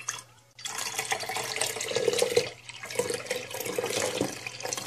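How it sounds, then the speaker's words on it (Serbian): Milk is poured into rice water, giving a continuous liquid pouring splash with a short pause partway through, fairly close and without speech. "ovu beličastu tečnost zaliti mlekom"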